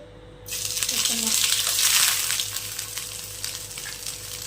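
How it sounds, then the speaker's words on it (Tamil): Vegetable potato cutlets are laid into hot oil in a pan on a medium flame; a sizzle bursts in after a brief quiet start, swells loud and close, then settles into steady frying. "வாங்க இப்போ கட்லெட்டை ஃப்ரை பண்ண வச்சுக்கலாம்."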